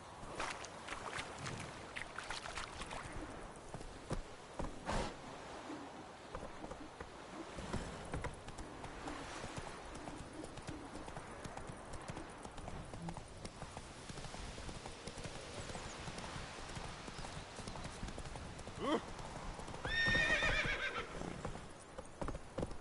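Horse hooves clip-clop steadily throughout with a brief neigh near the end, ridden in the Witcher 3 video game, continuous and fairly close under faint ambient wind.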